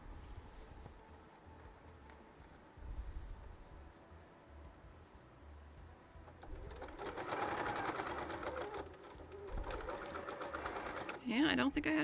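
Sewing machine stitching around a bag seam, a quiet motor whir rising in the second half in two steady runs, heard faintly beneath someone talking.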